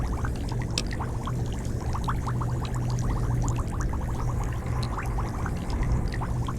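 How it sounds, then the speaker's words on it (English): Bubbling water in the Fallout New Vegas video game, a steady dense stream of small gurgling bubbles and pops with a low continuous rumble, close and even throughout with no talk. "Here, let's listen to these bubbles for a second."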